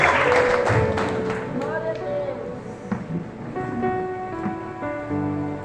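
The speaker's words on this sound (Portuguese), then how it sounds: "Pode aplaudir a palavra de Deus" A church congregation applauds, a broad wash of clapping that swells at the start and slowly fades while soft organ or keyboard chords rise beneath it.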